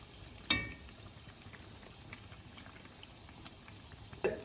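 Stuffed Lotus Biscoff donuts fry in hot oil, giving a soft, steady low bubbling and sizzle. Two brief louder pops or splashes stand out, one near the start and one near the end.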